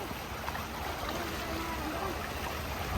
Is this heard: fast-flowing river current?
yes